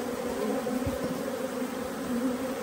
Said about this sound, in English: There's a lot of bees flying, as you can see.